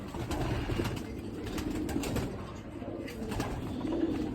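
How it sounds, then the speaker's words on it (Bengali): Pet pigeons, hens kept after racing trials, coo in a steady low murmur close by, a continuous soft rumbling chorus with no talking. "শখের প্রিয় কবুতর তো"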